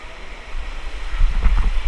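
Rushing water churns down the river slide at the Aqualud water park, a broad turbulent wash that swells louder and splashier midway, close to the microphone with wind buffeting.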